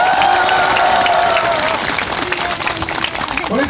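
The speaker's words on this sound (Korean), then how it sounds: "저쪽에서 오신 박근장님께 다시 한번 큰 박수 부탁드립니다" An audience claps in a steady wash of applause at a protest rally by victims of a tax accountant, the crowd noise broad and sustained with faint talk beneath it.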